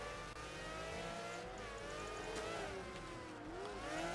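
A race car engine in Project Gotham Racing 3 whines and revs continuously, pitch rising and dipping with gear changes, steady and fairly quiet with no voices over it.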